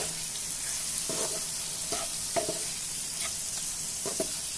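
Crispy honey garlic chicken is stirred in a frying pan after a pinch of salt, giving a steady sizzle broken by a few distinct spatula scrapes and taps against the pan.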